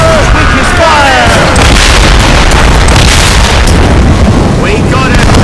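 Ship cannon fire during a naval battle in the video game Assassin's Creed Rogue: loud, dense booms crowd together into a continuous roaring barrage, with whistling streaks cutting through the din for the full length.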